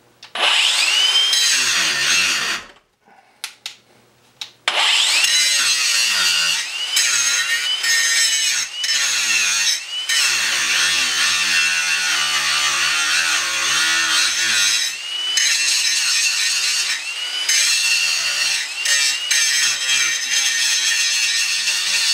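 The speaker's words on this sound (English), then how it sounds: "So I'm going to grind a little bit on this and see how hard I can push down," A Ryobi P423 brushless angle grinder bites into metal under heavy downward pressure, screaming loud and close with a harsh continuous grind that breaks off briefly near the start, then carries on with small dips in pitch as the load changes.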